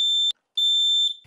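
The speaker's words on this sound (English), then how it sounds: "you can't depend solely on any type of smoke alarm" A smoke alarm gives two shrill, piercing electronic beeps, a short one then a longer sustained tone after a brief gap, loud and alone with no voices.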